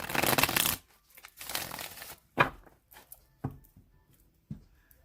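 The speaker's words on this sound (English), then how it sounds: "I'm going to shuffle it 3 more times" A tarot deck being shuffled up close: a loud riffling burst, a softer second riffle, then several sharp card taps and snaps on a table.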